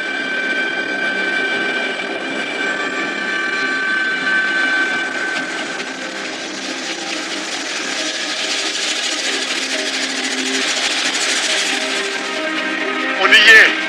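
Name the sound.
helicopter flying in the Annapurna massif, Nepal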